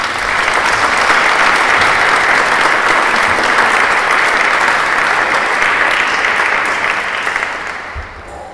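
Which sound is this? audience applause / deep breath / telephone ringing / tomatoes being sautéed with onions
audience applause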